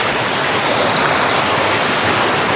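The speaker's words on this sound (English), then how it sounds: "the water comes down pretty fast" Fast-flowing water in a native brook trout stream, a steady loud broadband rush with no pauses, close by and alone.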